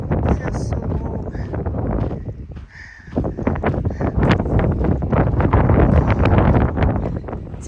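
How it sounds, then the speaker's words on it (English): Strong gusting wind on the Colorado Trail batters the microphone, a loud rough roar that dips briefly and then surges back even harder, close and continuous. "So much wind."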